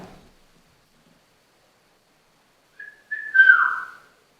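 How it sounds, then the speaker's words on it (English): A single whistled tone inside the old Fairfield County Infirmary building in Ohio rises into a brief two-part melody, clear and fairly near, after a faint noise at the start and a long silence. "You heard the whistle?"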